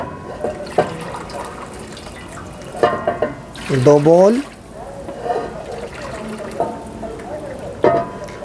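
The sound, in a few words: water poured into pot for Afghani pulao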